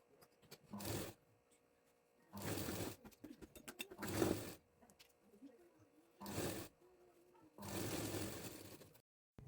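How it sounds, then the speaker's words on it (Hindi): A sewing machine stitches a straight seam on a blouse strip in short, quiet bursts of mechanical whirring, about five runs separated by pauses. "एक सीधी सीधी सिलाई को लगा लेंगे।"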